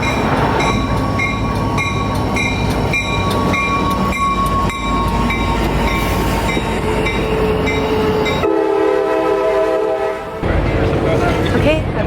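Loud rumbling and clatter of a sleeper passenger train bound for Greensboro, North Carolina, with repeated tonal horn-like chimes and a shift to a smoother, ringing tone near the end.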